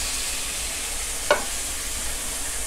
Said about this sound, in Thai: เติมน้ำลงไปนิดนึงนะครับใครมีน้ำสต๊อกใส่น้ำสต๊อกนะครับ